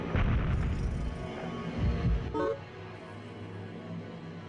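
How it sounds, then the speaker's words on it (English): A thrown blast box explodes in the video game Baroque, giving a loud, heavy boom with a rumbling burst and brief crackle that quickly fades into quieter game ambience. "May cause a massive explosion. Okay, we're gonna throw the box."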